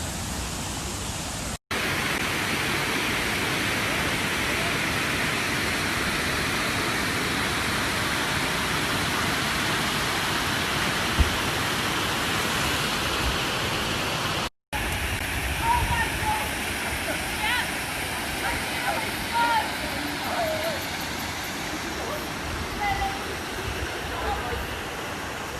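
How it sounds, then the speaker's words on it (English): A waterfall at an old dam site at Marae Tōtara pours in a steady, close, broadband rush that continues without a break, with faint voices partly audible beneath it. "look at that beautiful waterfall"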